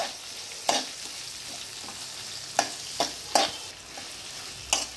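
Onions fry in a pan toward a deep brown for tomato pappu, making a quiet continuous hiss punctuated by a handful of sharp, close scraping strokes as they are stirred, with no speech.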